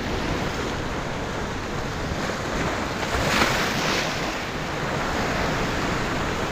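Rough, high winter surf pounds a rocky shore, a steady loud wash of breaking waves with wind buffeting the microphone and a brief swell of crashing water midway.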